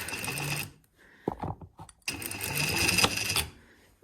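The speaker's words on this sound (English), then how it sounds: "You're gonna go to your machine and you're gonna sew at 1/2 inch all the way along the armhole" A home sewing machine runs in two bursts, stitching a half-inch seam along a camp coat armhole, with a brief quiet pause and soft handling noises between the runs.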